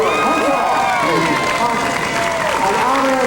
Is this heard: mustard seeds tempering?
no